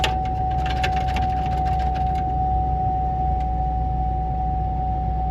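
A truck engine idles steadily and close by, a constant low rumble with a faint high whine running throughout.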